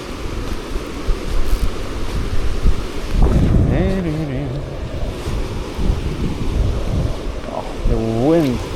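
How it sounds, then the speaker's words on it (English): Wind gusting across a riverside during fly fishing on the river Don, a steady broad roar of wind noise on the microphone with rushing water beneath, and a few brief tonal whistles partway through. "Oh, the wind doesn't help."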